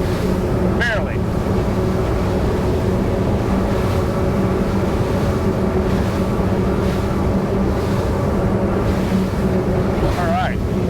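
A Regulator 34 boat runs at speed on Enertia 18 propellers, its steady engine drone blending with heavy wind buffeting and water rush for the whole stretch, with a faint voice briefly audible.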